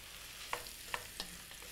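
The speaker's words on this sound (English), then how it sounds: "you just stir the mushrooms into the buttery juices" Mushrooms stirred into buttery juices in a pan, giving a few soft, scraping stirs spaced about half a second apart over a faint background hiss, with no talking.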